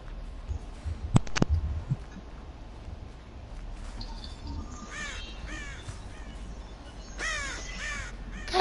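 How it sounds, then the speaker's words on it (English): Crows cawing outdoors, several harsh caws in two clusters toward the middle and end, moderately close over background noise, following a couple of sharp knocks near the start. "God damn it, bird, shut up."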